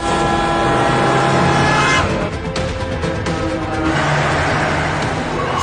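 Cars chasing one another, among them a taxi, with a dense continuous engine roar and traffic rush that dips briefly in the middle before swelling again, loud and close.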